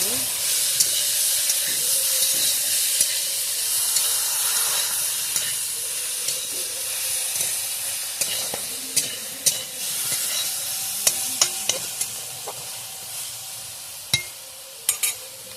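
Sour amrul greens with turmeric and aubergine sizzle and hiss steadily in a hot pan, with scattered scraping taps of stirring growing busier toward the end, and no talking.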